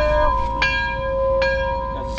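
A single bell rings out with a clear struck tone and long ringing overtones, then strikes again twice more, loud and close, over a low background hum.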